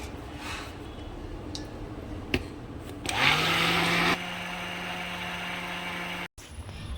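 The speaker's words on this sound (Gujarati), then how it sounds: "અને ફરીથી બ્લેન્ડર ફેરવીશ." A kitchen blender churns cream with added cold water to make homemade butter, its motor kicking in loudly partway through and running as a steady whine before dropping to a lower, continuous drone.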